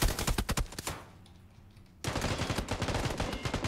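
Bursts of rapid gunfire in the battle game PUBG, loud and dense, then a short near-quiet gap before another sustained volley of shots.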